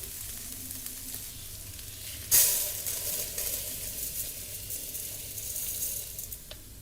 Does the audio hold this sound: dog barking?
no